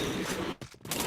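Rapid gunfire bursts in the shooter game Point Blank, loud and dense, with a brief lull in the middle before the firing resumes.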